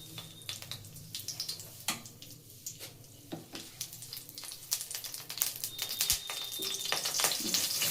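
Ghee sizzling in a frying pan on a stove, a steady crackle with scattered small pops and ticks, growing denser and louder toward the end, no talking.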